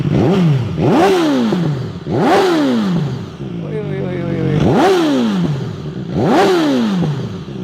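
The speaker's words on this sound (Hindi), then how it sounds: "वो स्वीट साउंड ऑफ इनलाइन 4" An inline-four motorcycle engine revved repeatedly, about five sharp throttle blips, each rising quickly to a high howl and falling away, with idle in between.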